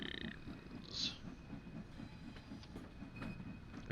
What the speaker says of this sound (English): Look at the steam trains.